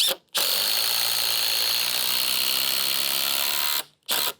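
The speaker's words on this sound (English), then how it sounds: "try to pre-drill this hole" A power drill whines steadily at high speed for several seconds, close up, pre-drilling a hole in deck wood, then stops briefly and starts again with a short burst.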